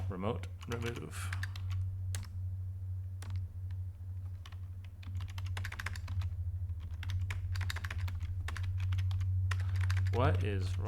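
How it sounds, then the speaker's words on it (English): Rapid keyboard typing clatters in bursts, with quick key clicks and short pauses, over a steady low hum, close and fairly quiet. "What is wrong with my typing?"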